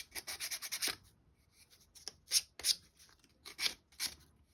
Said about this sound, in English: you probably don't really need to do that sanding, I'm just doing it